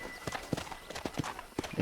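Horse hooves clip-clop in Red Dead Redemption, a steady, fairly close rhythm of about eight distinct strikes over a low ambient bed, with no talking.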